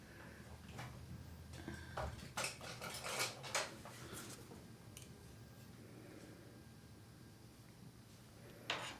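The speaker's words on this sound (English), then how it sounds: "I need to get a palette knife and scrape this off my brush." Palette knife scraping acrylic paint off a brush: quiet, close clicks and scrapes in a short cluster, followed by softer scattered taps and a final sharp scrape.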